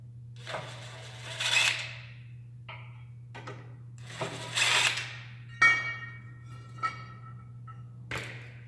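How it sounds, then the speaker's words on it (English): An impact wrench with a 1/2-inch socket removing bolts on a Ferris zero-turn mower gives a few short whirring bursts separated by pauses, over a low steady hum. "I choose to use an impact wrench with a 1/2-inch socket"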